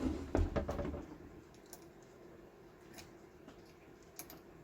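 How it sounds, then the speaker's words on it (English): A bobbin case is pushed into a White 565 sewing machine, giving a cluster of sharp plastic-and-metal clicks right at the start, then a few faint isolated ticks against quiet background. "the bobbin case will sort of click into place underneath"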